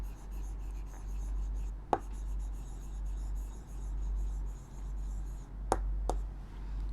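Marker or chalk writing on a board during a maths lesson, heard as a few brief scratchy strokes and taps over a low steady room hum, with quiet gaps between them.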